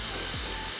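A hairdryer runs on its lowest fan speed with the heat on, a steady, even whooshing roar with a low hum, close and continuous with no talking.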